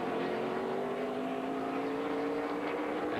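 A 2007 Busch Series stock car pulls away from pit road at Las Vegas, a steady loud engine drone that rises slightly in pitch as it accelerates, with no voices.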